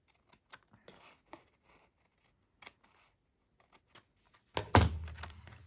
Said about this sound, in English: You just get your scissors like this and just go in here and do a little snip.